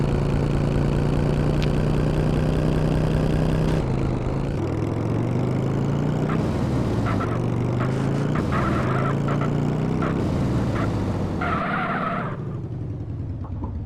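A motorcycle fitted with a Volkswagen Fusca engine runs with a steady, throbbing idle up close, then its pitch wavers and rises as the throttle shifts, with clunks and rattles mixed in.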